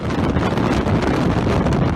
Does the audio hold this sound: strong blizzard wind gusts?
yes